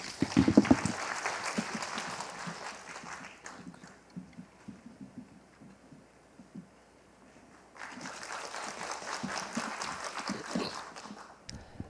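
An audience at a residents' briefing on the redevelopment of an apartment complex applauds. Many hands clap in a loud burst that thins out and falls quiet midway, then a second round of clapping swells up again.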